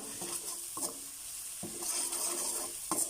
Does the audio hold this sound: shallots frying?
yes